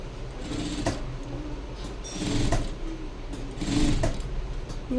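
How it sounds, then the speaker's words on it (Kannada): A sewing machine runs steadily while stitching a folded edge on a high neck blouse, a close mechanical whir with rhythmic clatter that swells in a few short bursts, no talking. "ಈ ಥರ ಫೋಲ್ಡಿಂಗ್ ಇಟ್ಕೊಂಡಿಲ್ಲಿ ಹಾಕೋತಾ ಇದ್ದೀನಿ ಸ್ಟಿಚಿಂಗು"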